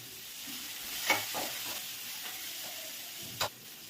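Fenugreek, cumin and mustard seeds dry-roasting in a pan give a steady low sizzle, with a few soft stirring scrapes and two sharper clinks near the start and end, close by and with no voices.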